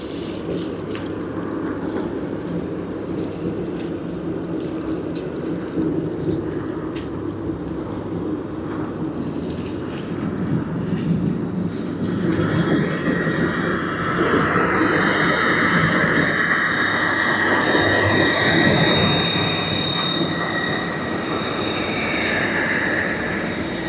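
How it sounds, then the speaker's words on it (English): A Qantas Airbus A330-300 airliner on flight QF44 from Denpasar, at Sydney Airport, makes a steady, loud engine roar that swells over the second half, with a rising whine joining the broad rumble. "What we see on screen is QF44 Qantas service from Denpasar on the Airbus"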